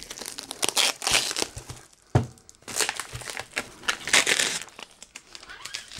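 Stickers peeled and torn from a product's plastic packaging, close and crackly, with repeated bursts of crinkling and ripping, a sharp snap partway through and brief pauses between pulls.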